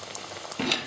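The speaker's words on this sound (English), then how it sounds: "Once the plantain gone golden brown, then you just need to turn them over and roll them over and then let it cook on really golden brown." Spicy plantain and spinach rolls fry in a pan, giving a steady close sizzle that swells louder near the end as the rolls are turned, with no talking.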